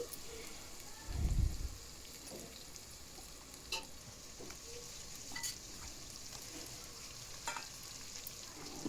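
Ginger garlic paste fries in a pan for pappu charu with a faint, soft sizzle, broken by a low thump early on and a few light stirring scrapes.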